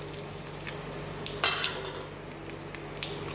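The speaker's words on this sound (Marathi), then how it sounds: "आता जिरे टाकले ते तळल्यानंतर आणि ह्याच्यात हिंग टाकायचा" Cumin seeds and asafoetida frying in hot oil with mustard seeds, a steady close crackling sizzle with small pops and one brief louder burst of spitting, no talk.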